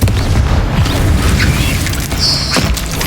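A Confringo fire spell from Hogwarts Legacy explodes with a loud, booming burst, followed by crackling magical impact noise in a busy combat scene.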